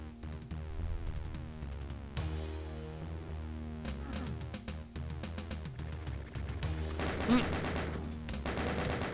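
A chain gun fires in a Doom wad, with rapid bursts of close, punchy shots in repeated runs broken by short gaps, set against steady game music and effects, with no talk.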